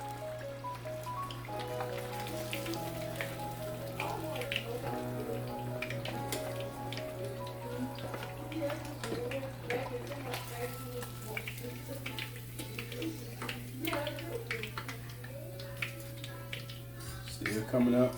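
Fish frying in hot oil for fish and chips, a soft continuous crackle and spatter beneath a sustained low hum, with scattered sharper pops throughout.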